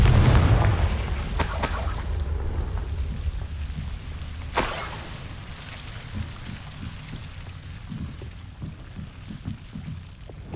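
A Confringo blast spell explodes in the Hogwarts Legacy video game, a loud booming burst with sharp bright cracks and a heavy low rumble that fades into a lingering murmur of scattered impacts.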